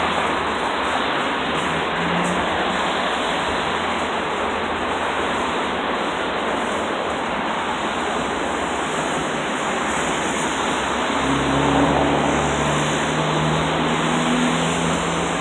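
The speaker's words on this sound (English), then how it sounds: "Waterfall, very nice." A small waterfall spills into a koi pond outside a diner, a steady loud rushing splash that continues unbroken throughout, with faint low traffic hum beneath.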